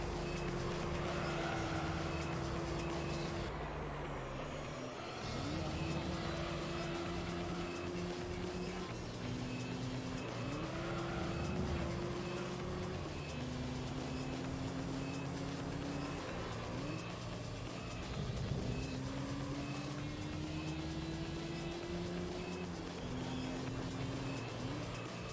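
The LMP Dragon race car engine in Gran Turismo 3 drones steadily, its pitch climbing through each gear and dropping at every shift in a repeating rise-and-fall pattern, close and continuous throughout, with faint talk underneath.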